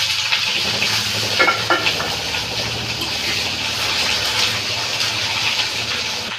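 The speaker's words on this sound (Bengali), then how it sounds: "বেগুনটা একটু ভেজে নিতে" Eggplant from a home garden frying in a pan with panch phoron and whole chilies, a dense continuous close sizzle with occasional stirring scrapes and clinks, loud and steady.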